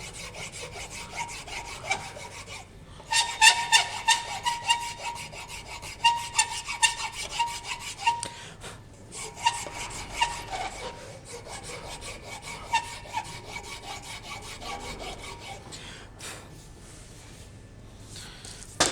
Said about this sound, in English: you can just file it nice and smooth